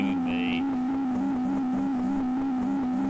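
A steady, droning engine hum from a truck racing game on the Amiga, a low pulsing tone with a faint regular warble, continuous and synthetic-sounding, with no voices.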